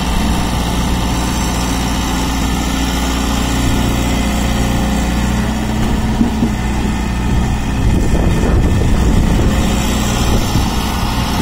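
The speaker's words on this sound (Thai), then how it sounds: "ว่าตอนนี้มาขับแบ็คโฮนะครับ" A backhoe's engine runs steadily at a loud, close idle, a constant low droning rumble with faint vibration and no speech over it.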